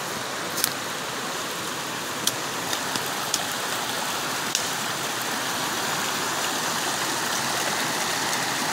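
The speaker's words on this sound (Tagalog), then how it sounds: "It's raining." Rain falling around a car driving through town in Washington, a continuous dense hiss with scattered sharp raindrop ticks, most of them in the first half.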